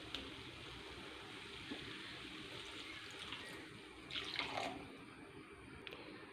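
Water is poured into a pan of egg curry, a faint, steady trickle that swells into a brief splash near the end, with no talking.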